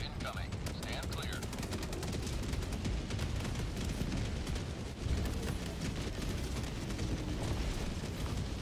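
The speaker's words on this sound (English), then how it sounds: "Orbital barrage incoming." Orbital barrage explosions pound the ground in Helldivers 2, a continuous dense roar of blasts and rumbling debris with a heavier thump near the middle, while voices talk underneath.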